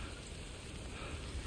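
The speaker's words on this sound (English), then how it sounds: "Its rain sounds are like so really nice" Steady rain pours down in Death Stranding, a dense, even hiss of drops hitting surfaces that stays constant and soft throughout, with no voices.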